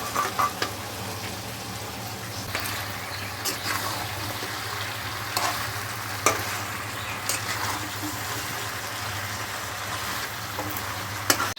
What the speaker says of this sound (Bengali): এবার আমি কাটাটা দিয়ে দেবো